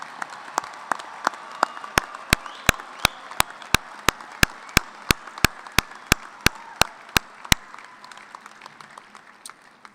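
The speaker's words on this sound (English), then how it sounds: "Graduates, let's give them all a big round of applause." Commencement crowd applauds the graduates at a fall ceremony, a broad wash of clapping under a loud, evenly spaced series of sharp claps near the microphone that stops before the applause slowly thins out.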